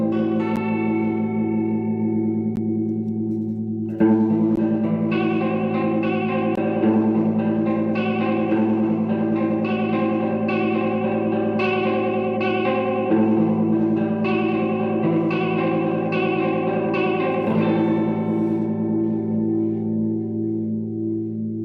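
A modded Boss CH-1 Super Chorus pedal processes sustained guitar chords with a shimmering, wavering chorus effect that grows slightly gritty, the strums ringing out continuously with no talk.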